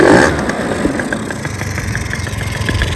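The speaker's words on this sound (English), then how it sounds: "Fair amount of induction noise from this filter" A two-stroke-swapped Suzuki Choinori scooter idles close by, its air filter giving off a rough, raspy intake induction noise with steady rapid pulsing and a louder burst at the start.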